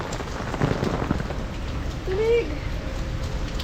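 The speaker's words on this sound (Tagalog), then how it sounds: "Umuulan pa rin." Steady rain patters on a surface close by, a continuous wash of drops that runs through the whole stretch, with a brief tonal squeak or voice-like sound rising midway.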